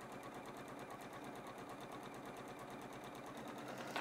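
Quilt pieces for a mini heart window quilt run under a sewing machine, one continuous faint, even whirring stretch of stitching close by with no talking.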